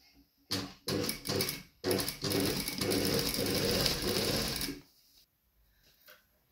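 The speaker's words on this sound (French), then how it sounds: "Et on va piquer ça à 1 cm qui est la valeur de couture de" A sewing machine stitching a 1 cm seam, first in a few short bursts and then in one steady run of rapid mechanical whirring that stops abruptly, leaving near silence.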